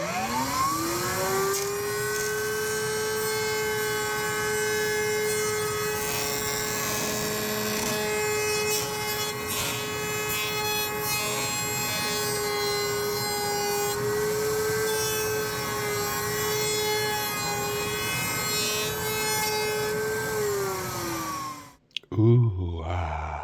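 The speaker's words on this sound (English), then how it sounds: "get it on the bandsaw, get it on the router, and we can get this out" A loud bandsaw whines at a steady pitch for about twenty seconds, its tone dipping slightly as it cuts holster material, then stops abruptly followed by a brief clatter.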